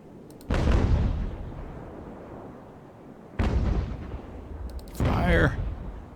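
Broadside cannon fire from sailing warships in Ultimate Admiral: Age of Sail: three heavy, booming volleys with long rumbling decays, each following a sharp onset, spaced a few seconds apart, with a brief voice-like sound over the last volley.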